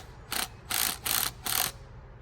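Ratchet turning a tap during assembly of a 1967 Camaro, making four evenly spaced bursts of rapid, close metallic clicking.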